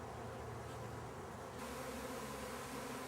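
Honeybees blown out of their hives swarm and move around, a soft continuous buzzing drone that stays faint and even with no voices.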